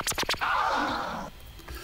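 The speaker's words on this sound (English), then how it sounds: "how you can maybe do tear scratches using the ScratchDNA feature" Emulated DJ tear scratch made with the ScratchDNA feature in VirtualDJ 8.4: a quick burst of three or four choppy record strokes, then one longer smeared scratch sweep that fades out, close and alone with no talking.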